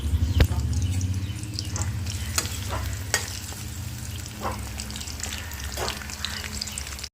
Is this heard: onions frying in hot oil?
yes